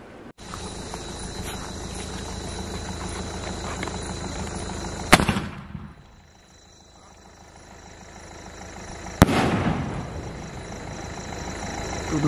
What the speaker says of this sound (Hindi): तो दोस्तों ये रहा हमारा स्पेन स्काई शॉट, चलिए अब इसे जला के देखते हैं।